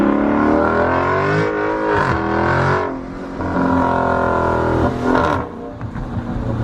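A Dodge Charger Scat Pack with its muffler deleted roars past, a loud throaty engine note rising and falling as it approaches and goes by, with surges of revving and no talking.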